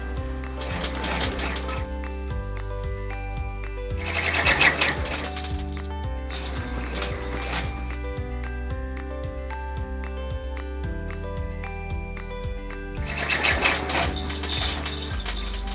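An embroidery machine stitches tack-down runs on fabric over stabilizer, a steady close mechanical hum with a rapid rhythmic needle chatter and periodic swells of louder clattering as the stitching moves.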